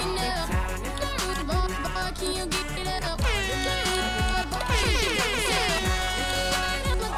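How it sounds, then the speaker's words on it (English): Air horn blasts in the DJ Hero 2 rhythm game, repeated horn stabs layered over a thumping electronic mix with beats, scratches and sweeping synth effects, loud and busy. "Oh, I wish everything was air horns."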